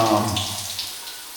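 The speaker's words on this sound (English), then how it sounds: "Alright, let me have a shower and" Water runs from a shower in a prison, a close steady splashing stream that fades slightly toward the end, heard alone.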